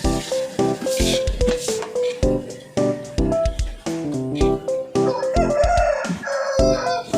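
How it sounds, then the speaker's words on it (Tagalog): A large rooster crows loudly and close by, several harmonic calls in a row at a rural provincial home, with some kitchen clatter in the background. "Uy, sumagot yung manok, oo daw."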